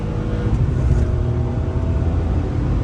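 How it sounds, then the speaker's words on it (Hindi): Two Hyundai i20 N Line cars accelerate side by side, a loud close engine roar with dense low rumble and steady throttle, sustained throughout without pause. "एक साथ ही उठी है दोनों गाड़ियाँ, हल्का सा लैग, गाड़ी साथ साथ ही चल रही है।"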